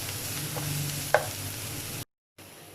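Chopped onion sizzles and crackles steadily in a hot pan while making egg curry, a constant frying hiss with a brief clink partway through before a short cut.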